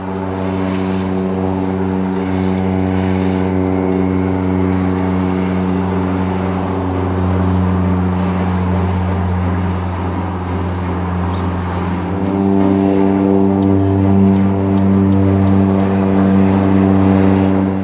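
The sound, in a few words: seaplanes taking off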